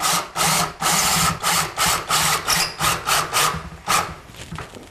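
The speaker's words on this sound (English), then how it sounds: "Juan, there's a ledger under here that you put your screw in." A screw is driven into a wooden ledger with a steady series of rhythmic grinding, creaking strokes, about two per second, loud and close with no talking.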